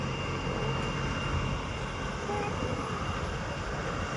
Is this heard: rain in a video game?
no